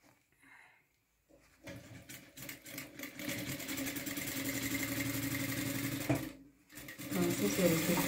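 A sewing machine stitching a jacket pocket hums in a steady, fairly close whir that lasts several seconds, stops briefly, then starts again, with quiet speech at the start.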